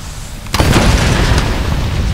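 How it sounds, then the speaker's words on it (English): A sudden loud boom bursts into a sustained roaring explosion in the Tomb Raider video game, a sharp blast followed by a dense rumbling wash that fills the rest of the moment. "More epic explosions."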